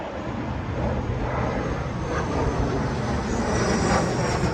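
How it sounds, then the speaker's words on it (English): A private jet taking off near Orlando Executive Airport in Florida, a loud, broad engine roar that holds steady and swells slightly as it climbs, heard outdoors from nearby. "And check out this plane taking off."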